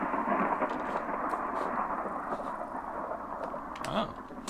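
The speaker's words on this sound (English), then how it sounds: "Oh, there's a thunderstorm." Thunderstorm in Minecraft: rolling thunder rumbles over steady rain, with a louder crack near the end, fairly close and moderately loud, with no voices.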